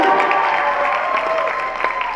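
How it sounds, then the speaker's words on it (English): Audience applause at a youth fashion show, honouring the hardworking youth volunteer team, a dense steady wash of clapping from a crowd with some cheering mixed in, sustained and fairly loud throughout. "So please give a big round of applause for our youth team."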